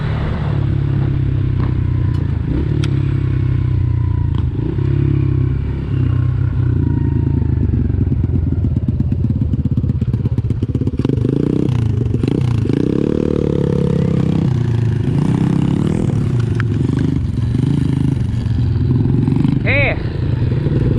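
Pit bike engine revving while riding in a driveway, a loud continuous motor drone rising and falling with gear changes, clattering at times, with people talking over it.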